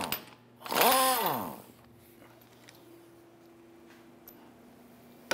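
A power tool whirs up briefly and loud as it loosens the 21 mm outer tie rod end nut on a 2011-2018 Ram 1500, then falls to a quiet hum with faint clicks.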